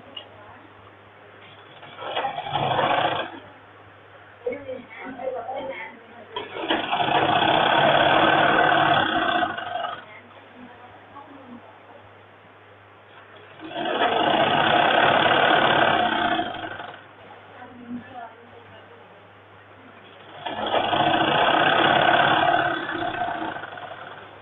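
A sewing machine stitching a double seam on a men's shirt sleeve: three separate bursts of steady mechanical whirring, each a few seconds long, with quieter gaps of handling noise and someone talking between them.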